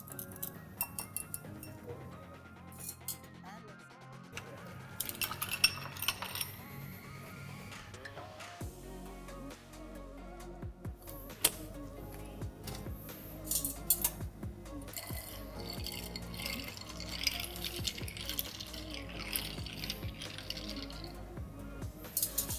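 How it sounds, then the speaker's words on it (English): A spoon stirs espresso in a ceramic cup at a café coffee bar, giving light repeated clinks and scrapes against the cup over a busy background of machine noise and clatter. "Stir it thoroughly until it dissolves."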